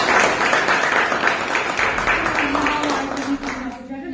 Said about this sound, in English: Can we give a huge round of applause for the entire faculty?